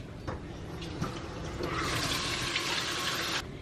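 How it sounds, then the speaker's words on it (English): Tap water runs in a steady broadband stream as fresh basil gets a quick rinse in a home kitchen, starting faintly and swelling louder for about two seconds before cutting off. "I'm gonna wash it. I'm just gonna do a quick rinse."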